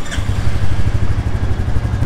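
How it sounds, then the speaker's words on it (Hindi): 2021 Royal Enfield Classic 350 single-cylinder motorcycle starting up, a brief crank at the start followed by a close, loud, thumping idle with a steady rhythmic beat. "तो चलिए इसको स्टार्ट करके देखते हैं अभी क्या जादू दिखाती है ये बाइक"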